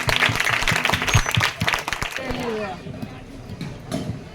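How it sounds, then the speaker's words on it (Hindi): Congregation applause at a Sunday deliverance and gospel open meeting in a Chandigarh church, dense clapping from many hands in the first two seconds that thins into a scattered patter beneath a raised voice and crowd noise. "जोरदार परमेश्वर के लिए तालियां पर"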